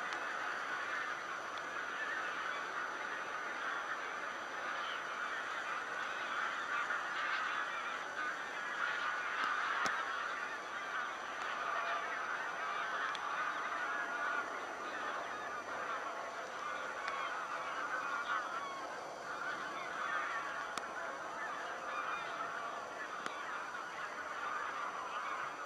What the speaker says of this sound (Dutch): Grote groepen ganzen worden kennelijk gestoord in hun rust door de schaarse wandelaar